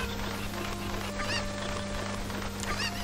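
Cucco chickens from the video game Zelda Ocarina of Time let out two short, squawking clucks about a second and a half apart, over a steady droning game background.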